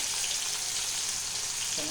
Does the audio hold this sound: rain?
no